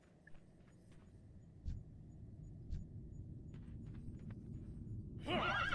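In World of Warcraft, a knight's horse makes quiet, scattered hoof-like thumps and game noises during combat, ending in a louder burst of sound.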